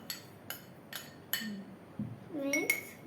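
A spoon taps and clinks against a bowl while mixing oats and chia seeds for a pudding, a run of four evenly spaced sharp clinks followed by scraping and a couple of closer knocks, faint and close, with a voice briefly heard.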